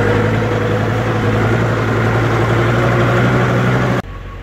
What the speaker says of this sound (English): Now we gotta use the tractor.